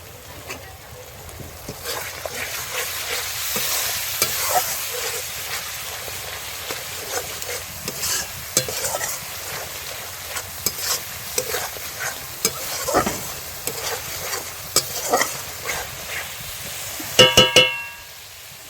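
Spices with turmeric and a splash of water frying in a pan for a village-style pangash fish curry, sizzling and bubbling steadily while a utensil stirs and scrapes, ending in a few louder metallic clinks.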